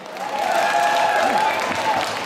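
A Lunar New Year celebration crowd at a Vietnamese church hall applauds a singer, a steady wash of clapping with a sustained tone and crowd murmur beneath it.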